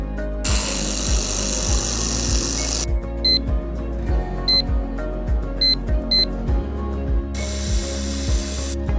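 An air-cooled laser welding machine works on galvanized square steel, with a steady mechanical hum, regular low clicking pulses, a loud hissing burst, and short high electronic beeps repeating nearby.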